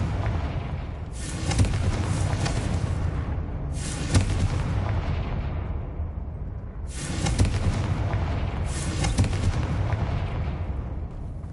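Several booming blasting-curse explosions from Hogwarts Legacy land in pairs, each a loud burst that rolls off into a rumbling tail.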